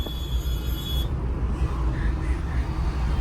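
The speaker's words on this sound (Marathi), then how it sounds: "इकडून गाडी आली" A car rolls past on the road, a low steady engine rumble and tyre noise close by, with a brief high tone fading out early on.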